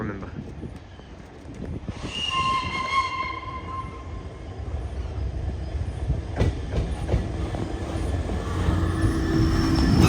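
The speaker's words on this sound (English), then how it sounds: "our final train of today will be 66011, bringing in a steam locomotive going to Autumnmere Railway" Class 66 diesel 66011 rumbles past near Peterborough on the East Coast Main Line hauling a steam locomotive, its wagons clattering loudly over the rails with a brief whistle-like tone early on and a rising roar to the end.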